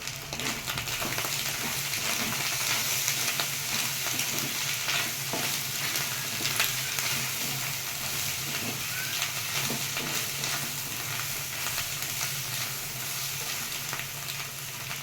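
Chicken fried rice with salt and masala sizzles continuously in a hot pan, a dense, loud frying hiss with occasional scraping as it is stirred.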